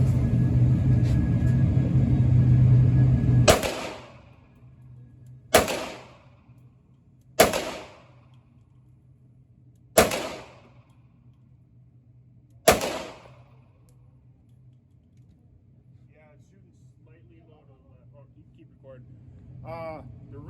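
Five sharp pistol shots from an M&P 5.7 ring out one at a time, spaced about two to three seconds apart, loud and close, each with a short decaying echo, after a stretch of background rumble.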